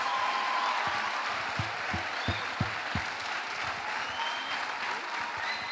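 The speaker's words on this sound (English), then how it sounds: "Round of applause." An audience at a village gathering applauding, steady clapping of many hands with a few louder individual claps standing out, sustained throughout.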